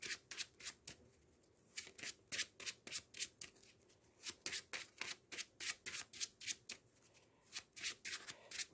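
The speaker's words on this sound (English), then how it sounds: "We shuffle Rhino's deck" Repeated crisp riffling bursts of a deck of cards being shuffled, close and steady, many quick flutters in a row with short pauses between.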